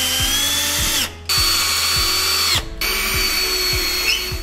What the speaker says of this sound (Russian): Мастер на видео использует шуруповерт.